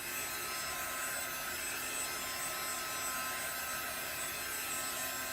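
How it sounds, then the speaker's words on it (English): A Marvy embossing heat gun, model 2500, blowing steadily over chalkboard vinyl: a constant, even whirring hiss with a low hum underneath, close and unbroken from start to finish. "This is the embossing heat gun made by Marvy, model 2500."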